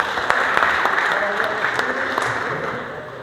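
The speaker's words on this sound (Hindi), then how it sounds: "उनके लिए जोरदार तालियां एक बारी।" Loud applause from the audience at a workplace Safety Day program, dense steady clapping that continues throughout and fades slightly toward the end, with some crowd voices mixed in.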